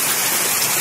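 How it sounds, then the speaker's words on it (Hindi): Steady rain falling outdoors on a Malaysian day, a dense continuous hiss with no pauses, close and fairly loud throughout the short stretch. "बारिश हो रही है।"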